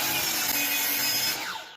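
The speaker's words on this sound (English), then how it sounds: "First, I'm going to cut the wood." A power saw cuts through wood for Halloween candle holders, a steady loud whining buzz that runs continuously and tails off near the end as the cut finishes.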